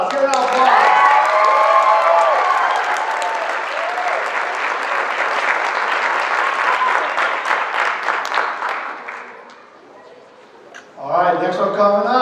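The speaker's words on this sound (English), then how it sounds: "Let's give it out, applause." An audience at a black belt ceremony claps steadily for about nine seconds, a dense, loud ovation with a few whoops. It fades out, and then a voice starts talking.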